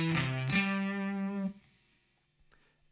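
Distorted electric guitar plays the main riff of a song, a loud sustained chord ringing for about a second and a half before cutting off into near silence, with no one talking.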